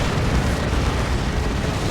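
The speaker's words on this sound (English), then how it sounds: "Smoke shell dropped in." A smoke shell lands and bursts in a Warhammer 40,000: Dawn of War 2 battle, a loud, sustained, noisy rush of blast sound that fills the whole moment without a break.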